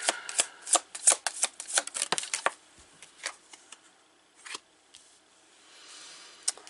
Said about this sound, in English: Let's just pull out the cards here.